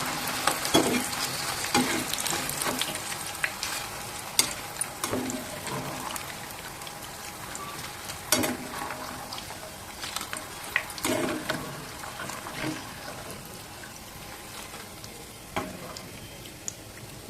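Banana slices deep-fry in hot oil for homemade banana chips, giving a continuous bubbling sizzle with sharp crackles and occasional stirring scrapes, close and steady, with no talking.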